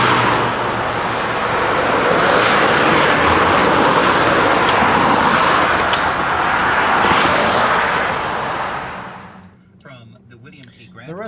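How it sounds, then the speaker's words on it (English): Road traffic roars past a cyclist on a cross-country bike tour, a loud sustained wash of tire and engine noise that swells and then drops away sharply near the end. "There's lots of traffic, so who knows how long it's going to take."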